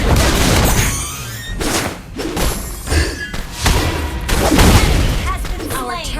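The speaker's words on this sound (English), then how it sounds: "Our turret has been destroyed." Mobile Legends: Bang Bang gameplay with a turret being destroyed, loud and busy: dense thuds, booms and crashing effects layered over game music, with surges and dips throughout.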